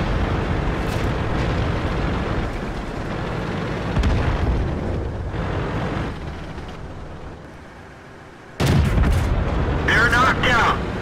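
Self-propelled artillery fire in a tank video game, heavy booming blasts and explosions landing amid continuous engine rumble, with a sharp loud impact burst near the end and a player talking over it.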